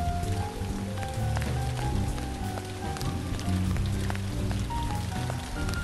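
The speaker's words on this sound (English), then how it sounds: "Gosh, the rain is still so loud." Steady rain in the video game Shoujo City 3D, a dense continuous patter laid over low background music tones, loud and unbroken throughout with no talking.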